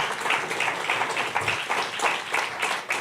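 A church congregation applauds, a dense, steady wash of many hands clapping fairly close that carries on for the whole moment with no clear voices.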